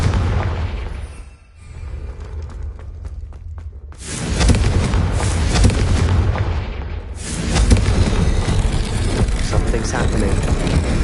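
An explosion spell cast in a video game detonates as loud, deep booming blasts with heavy low rumble, one hitting near the middle and a second following, then a sustained roar.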